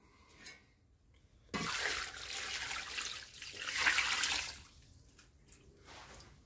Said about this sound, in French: Maintenant, on va couvrir d'eau.